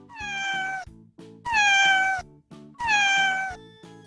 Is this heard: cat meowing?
yes